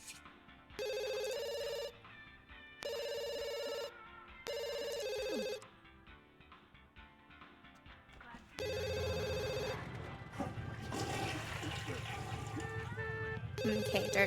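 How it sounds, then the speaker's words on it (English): A telephone rings in The Sims video game with several repeated electronic ring bursts separated by short gaps, followed by busier game sounds and music, loud and clear with no talking. "he should probably answer the phone"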